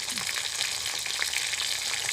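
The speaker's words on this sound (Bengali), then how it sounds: "কেটে রাখা টমেটো দিয়ে দেবো।" Chopped tomatoes hit browned onions in a hot pan for a mushroom dish and set off a steady, dense sizzle that stays close and even throughout.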